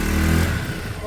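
A Peugeot Satelis scooter engine runs close by on automatic choke in a steady, loud buzzing drone, with its pitch shifting slightly partway through the short burst.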